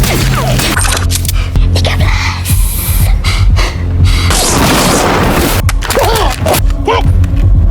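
A grenade detonation in an action film, a dense, loud, continuous stretch of booming blasts, rumble and crackling debris with a few whooshing sweeps and no clear pauses.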